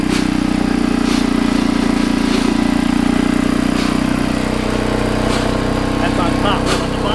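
The engine of a 1959 Lickity log splitter runs at a steady, loud, close drone with a constant low hum, while a voice talks over it and faint clicks sound now and then.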